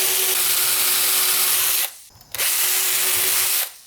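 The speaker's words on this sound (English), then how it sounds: "So now let's drill our hole right about here somewhere." Small power drill boring a hole with a 1/16 inch bit into an aluminum carburetor block for a homemade engine: a steady high whine runs about two seconds, cuts out briefly, then resumes and stops.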